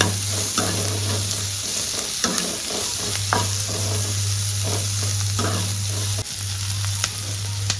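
Onions sizzle and fry in a pan for paneer butter masala, a steady close hiss with occasional stirring scrapes and clinks, no voices over it.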